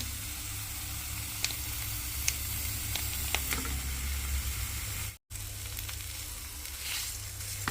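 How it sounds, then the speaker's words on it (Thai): Thai curry paste for nam ngiao is stir-fried with minced pork in a hot pan. It gives a steady, loud, close sizzle throughout, with occasional light scrapes and ticks of stirring and a brief dropout partway. "เอาน้ำพริกแกงผัดกับหมูสับนะคะ"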